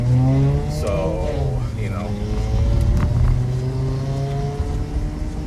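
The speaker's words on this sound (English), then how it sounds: "I haven't heard a noise like that for a car since Mario was in my dump." A car engine runs steadily close by with rising and falling tones like revving, loud throughout, while a person talks over it.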